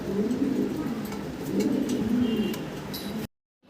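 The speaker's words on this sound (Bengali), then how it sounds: "অনেক কবুতর আছে" Many pigeons at a pigeon seller's loft coo in soft, repeated rolling calls up close, with a few faint chirps, before the sound cuts off abruptly.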